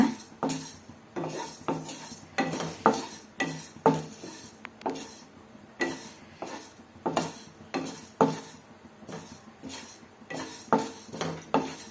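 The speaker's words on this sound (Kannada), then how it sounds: "ಈ ಥರ ಕೆಂಪಗೆ ಹುರ್ಕೊಳ್ಳೋಣ" Chana dal and urad dal roasting in a pan, stirred with a utensil that scrapes and clatters against the metal in steady, repeated strokes over a soft dry sizzle.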